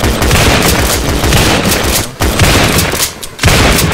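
Rapid gunfire in the first-person shooter Double Action, loud and close, with dense overlapping shots and bursts filling the whole stretch, a short gap near the middle and another brief lull near the end.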